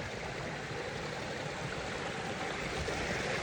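Blackden Brook in the Peak District flows over rocks, a steady, full rushing of water heard up close with no break.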